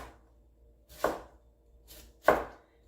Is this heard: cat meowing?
no